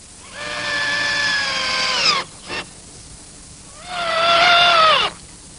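A power drill drives in screws while swivel casters are fitted to a wooden trundle bed: two sustained whining bursts, each sagging in pitch as the motor winds down, with a brief blip between them.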